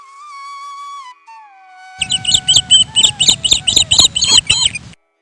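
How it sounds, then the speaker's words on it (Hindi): Birds singing over a field in a Hindi fairy tale: a clear whistled melodic call first, then a loud, rhythmic run of rapid chirps and twitters close by that stops abruptly. "कितना मधुर संगीत है इन चिड़ियों का।"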